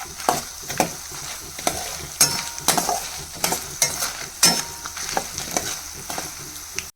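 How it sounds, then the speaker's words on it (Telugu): Red chillies, peanuts and coriander seeds dry-roasting in a pan, stirred with steady, repeated scraping strokes that come close and fairly loud over a light crackling hiss. "ఇప్పుడు ఇవి నిదానంగా కలుపుకుంటూ వేగేంత వరకు వెయిట్ చేయాలన్నమాట"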